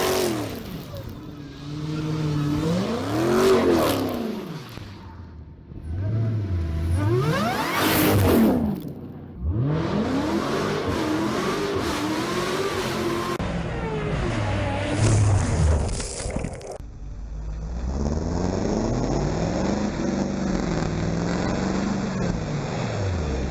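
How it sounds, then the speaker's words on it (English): A car driven on the road after a replacement PCM install, its engine rising and falling through gear changes with a loud, continuous rush of road noise and occasional whooshes, close and steady throughout. "I'm going to let that run, and I'm just going to go for a little drive here."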